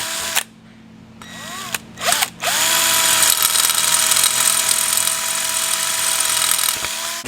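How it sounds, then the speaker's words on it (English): A drill bores holes through a metal valve body plate while fitting a Transgo Jr shift kit to a Duramax Allison six-speed transmission; the whine starts and stops in short bursts before one long, steady, close run. "So we'll go ahead and drill these."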